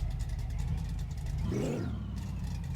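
V8-powered Lada sedan engine in the game My Garage, droning steadily with a rising and falling rev surge midway, loud and continuous throughout.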